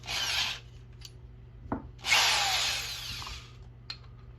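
A power drill briefly spun while a bit is fitted into the chuck, giving two short whirring bursts with a click and tap between them, close and fairly quiet in a still room.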